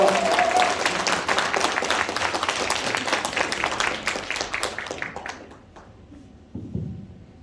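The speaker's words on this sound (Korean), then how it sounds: "조정식 국회의원님을 앞으로 모시겠습니다. 큰 박수로 환영해 주시기 바랍니다." At a Korean political rally, a crowd gives dense, loud applause welcoming a speaker, then the clapping thins and fades out, with a brief sound near the end.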